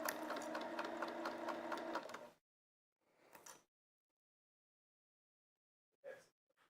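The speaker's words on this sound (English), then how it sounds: "I know, Ramel, I have to see what I'm sewing." A sewing machine runs in a fast, steady mechanical chatter for about two seconds and then stops, followed by a couple of brief soft rustles and breaths in a quiet room.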